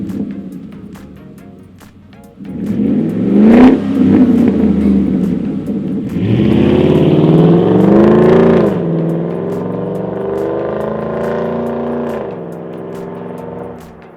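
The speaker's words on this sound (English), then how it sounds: "The Attack is one of the most popular exhausts for the 5-liter F-150s" A Ford F-150 with a 5.0L V8 and Attack cat-back exhaust revs up repeatedly, its loud, deep exhaust rumble rising and falling through several throttle blips close by.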